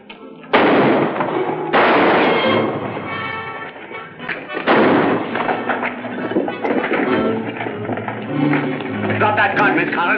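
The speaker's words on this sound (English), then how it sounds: "this is supposed to be a big gunfight" Gunfire in a staged movie gunfight: several loud, booming shots spaced a second or more apart, each trailing into a long echo, with shouting voices mixed in.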